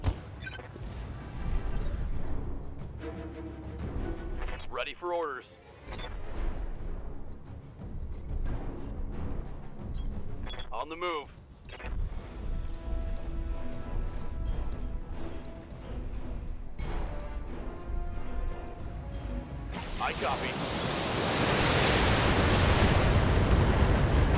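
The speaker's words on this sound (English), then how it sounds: "Firing full complement on enemy." Heavy mech weapon volleys and blasts in the BattleTech strategy game, a series of loud rumbling explosions with sweeping whooshes near 5 and 11 seconds, ending in a sustained roaring barrage.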